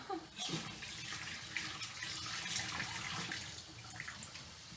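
Hot water runs steadily from a kitchen tap as someone washes their hands, a soft continuous splashing with faint irregular drips, heard close and quiet with no voices.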